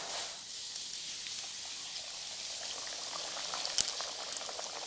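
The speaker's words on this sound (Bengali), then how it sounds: "এবার এক এক করে আমি ভেজে নেব আর এটা কিন্তু মিডিয়াম ফ্লেমেই ভাজতে হবে" Steady crackling sizzle of green pea kachori frying in hot oil over a medium flame, constant and fairly close, with a few sharper pops.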